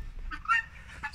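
A Sebright bantam hen gives a couple of short, nasal clucks close by, loud against a quiet room. A faint low rumble sits underneath.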